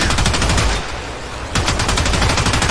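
Gorgon gunfire in Warframe, shooting through a shield: loud, rapid machine-gun bursts fired continuously, with a short lull in the middle before the heavy stream of shots resumes.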